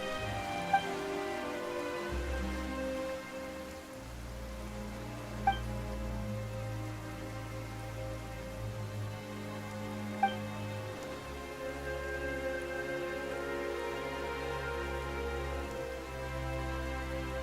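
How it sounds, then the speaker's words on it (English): Rain falls steadily and evenly throughout, a soft continuous patter mixed under sustained orchestral music, with a few faint chime-like accents and no voices. "Why is it raining all of a sudden?"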